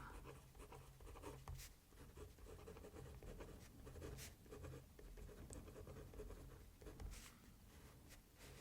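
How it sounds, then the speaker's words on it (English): A pen scratches softly and steadily across paper in close, intimate writing strokes, with faint taps and rustles and no voice. "I'm going to write one more name with it."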